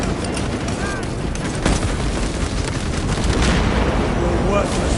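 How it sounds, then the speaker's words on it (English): A frag grenade goes off in a Warhammer video game, a loud, sustained rumble of explosive noise with dense crackling debris filling the whole stretch, amid ongoing battle sounds. "Frag grenade deployed!"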